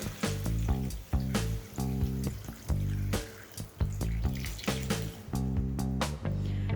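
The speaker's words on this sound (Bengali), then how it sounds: "এবার দিয়ে দিচ্ছি জল" Water runs steadily from a tap into a pan of bottle gourd peels in a home kitchen, a continuous close splashing stream with a few brief knocks and clatters along the way.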